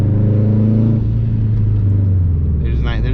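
A 2005 Subaru STI with a COBB 20G turbo pulls hard, its engine tone rising and then dropping as the revs change, loud from inside the cabin, with a voice starting near the end.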